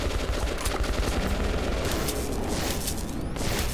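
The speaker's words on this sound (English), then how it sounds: "I want to test my new gun, though." Gunfire from a new gun in the video game Metro 2033 Redux, a dense, loud, continuous burst of rapid shots with booming low rumble throughout.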